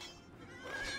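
A horse whinnies for a knight unit in Age of Empires II, a single rising neigh over a steady game background that swells louder toward the end.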